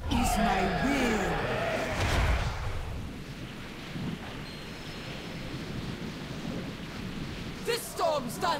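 Thunderstorm in the World of Warcraft Zandalari Troll quest, a deep rumble and roll of thunder with rain-like hiss, opening with a character's voice over it and more voices near the end.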